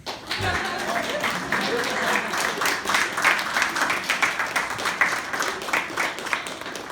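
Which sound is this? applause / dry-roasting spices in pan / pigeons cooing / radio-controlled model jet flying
applause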